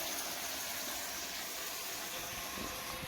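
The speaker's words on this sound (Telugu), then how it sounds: "ఇది వాటర్ పోస్తున్నా" Water pours steadily into a cooking pot in a continuous broadband gush, fairly close, with no talking over it.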